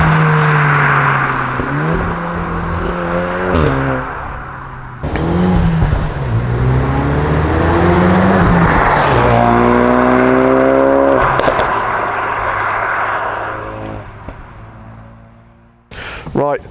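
A Ford Focus RS and a Golf R make fast flybys, engines revving and rising, sweeping past with pitch drops and a brief gap between passes, loud and close.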